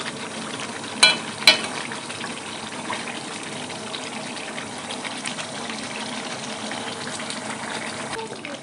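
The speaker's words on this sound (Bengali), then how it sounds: "দেখুন বন্ধুরা কষতে কষতে কতটা জল বাড়িয়ে গেছে মাংস থেকে" Broiler chicken pieces simmer and sizzle in their own released water in a pan for a Bengali chicken and potato curry, a steady wet bubbling hiss with a couple of sharp spoon clacks near the start.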